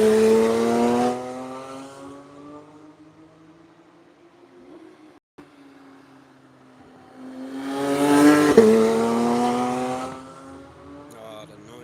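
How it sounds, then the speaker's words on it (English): Ferrari race cars pass on the Nürburgring track, two loud engine roars rising and falling as each car goes by, with a quieter gap between them. "A few Ferraris out on track."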